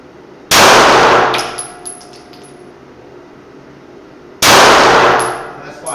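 Two sharp, loud pistol shots sound about four seconds apart, each followed by a ringing metallic clang from a steel target that slowly fades, with a pistol fitted with an Aimpoint Acro P-2 red dot.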